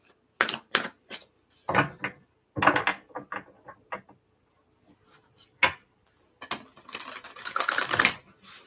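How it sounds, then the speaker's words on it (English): A deck of tarot cards being shuffled and cut at a live reading: sharp, irregular slaps and riffles in short bursts with gaps, ending in a longer rustling shuffle, close and fairly loud. "I just want to give him a good shuffle."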